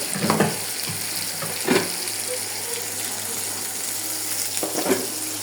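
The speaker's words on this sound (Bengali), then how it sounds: "দেখেন কত সুন্দরভাবে আমরা রান্না করতেছি।" Tengra fish frying with tomatoes in a pan gives a steady, close sizzle, broken by a few sharp scraping bursts as the mix is stirred.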